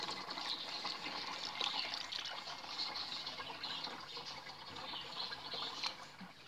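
Ordinary cooking oil and diesel fuel poured together into a container, a steady close trickling and gurgling liquid stream that runs throughout with no speech.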